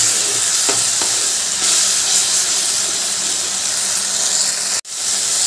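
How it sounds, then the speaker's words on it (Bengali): Tomato paste fries loudly in hot oil for a cauliflower korma and is stirred continuously, giving a steady, close, hissing sizzle with faint scraping. The sizzle cuts out for a split second near the end. No one speaks. "এবার এই টমেটোর পেস্টটা ভালো করে তেলের মধ্যে কষিয়ে নেব, টমেটোর কাঁচা ভাবটা যেন না থাকে।"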